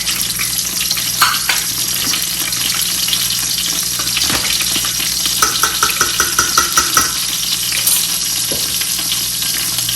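Steady, loud sizzle of curry leaves, chopped green chili and green cardamom hitting hot oil for a Hyderabadi biryani, a dense continuous crackle with scattered pops and light stirring clicks, no talk.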